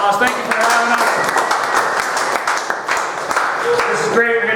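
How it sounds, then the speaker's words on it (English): Audience applause at a Club Moderne bar show, a loud continuous spell of clapping with some cheering, and voices heard at the start and end. "Give them a round of applause."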